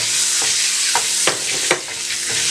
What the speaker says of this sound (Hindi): और अंडों को आपने चंद सेकंड के लिए इसमें फ्राई कर लेना है